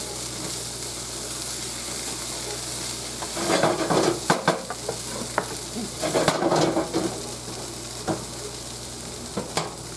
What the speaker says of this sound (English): So we can get all that good smelling, good cooking going on around there.